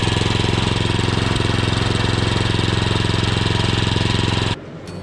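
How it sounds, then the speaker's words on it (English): A reel lawn mower makes a trim pass at a 14 mm cut height on a lawn at the end of winter, after dethatching. Its motor drones steadily and close up, then drops away abruptly near the end. "This is the trim pass that I'm doing, and I'm mowing with a reel at 14mm"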